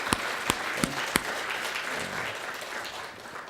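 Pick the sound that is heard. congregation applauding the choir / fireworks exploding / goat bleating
congregation applauding the choir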